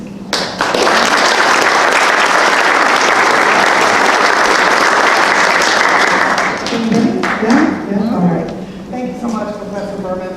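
An audience at an Ohio cannabis industry event on women and diversity applauds loudly for several seconds. The applause fades as a voice begins speaking over the tail.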